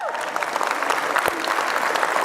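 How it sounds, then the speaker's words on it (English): An audience at a Linux Foundation opening keynote bursts into steady applause for the organization's lawyers, dense clapping filling the hall with faint voices mixed in. "How about a round of applause for the lawyers?"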